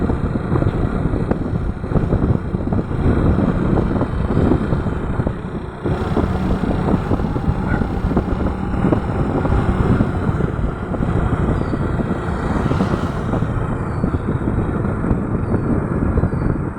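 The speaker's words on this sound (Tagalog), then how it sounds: "Lakas ng hangin." Strong wind buffets the microphone while a motorcycle rides a wide mountain road near Duran, a loud continuous roar with rumbling engine noise underneath, steady throughout.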